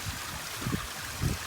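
A garden pond waterfall driven by an Oase 2,400 gallon-per-hour pump runs in a steady broadband wash of flowing water, with low burbling splashes pulsing through it, close and continuous with no voices.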